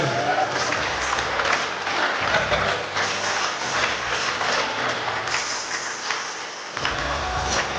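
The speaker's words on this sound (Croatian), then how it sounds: "još jedan veliki aplauz za naše mladince" A crowd claps in sustained applause for several seconds, a dense continuous patter of many hands, fairly loud.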